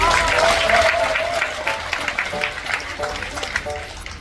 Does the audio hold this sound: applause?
yes